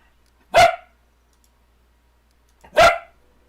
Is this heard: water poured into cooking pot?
no